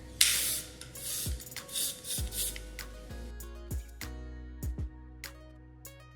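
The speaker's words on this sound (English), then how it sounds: "So shake it up and then spray about 12 inches away from your hair." Hair shine spray misted onto styled beach waves from about a foot away, a series of close, soft aerosol hisses in short bursts with quiet gaps between them.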